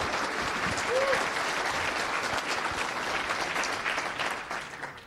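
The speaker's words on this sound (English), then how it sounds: "so give him a big round of applause" Steady applause from a conference crowd at FOSDEM, dense clapping filling the room continuously and fading slightly at the end.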